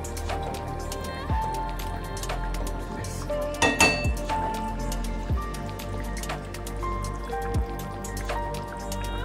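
Fish pieces go into a cooking pot of Bengali fish curry with potol, potato and vegetable stems, giving several sharp drips, clinks and splashes against the pot over a steady kitchen background.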